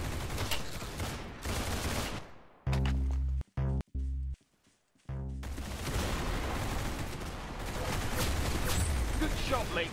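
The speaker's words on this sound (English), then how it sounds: "Very good shooting." Gunfire from the Roblox shooter Arsenal crackles in dense, continuous bursts, broken by a few short gaps and single shots, loud and close throughout.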